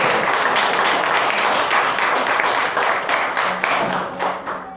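A church congregation at a missions service applauding together, a dense, loud, continuous wash of many hands clapping that slowly thins and fades toward the end.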